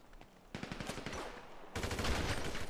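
Rapid gunshots in a video game, a quick rattling burst followed by a louder, denser volley near the end, close and sharp with no talk.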